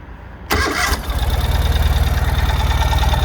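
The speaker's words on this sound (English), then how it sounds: "I'm going to start up the motorcycle for you because you'd love to hear that 749cc engine" A 2022 Ural motorcycle with a 749cc engine cranks briefly, then catches and settles into a steady, throbbing idle, loud and close.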